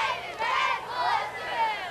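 Crowd at a 2004 high school football game between Paxon School for Advanced Studies and Baldwin High, with Baldwin cheerleaders chanting and yelling in steady, loud rising-and-falling shouts over a continuous crowd roar.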